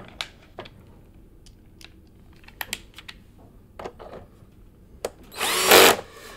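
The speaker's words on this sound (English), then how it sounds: "as I'm using an electric screwdriver, I'm using the lowest torque setting just to not damage the plastic" Electric screwdriver on its lowest torque setting fastening a plastic sole plate on a Bissell Powerforce bagless vacuum cleaner: scattered clicks and taps, then a short loud whirring burst near the end.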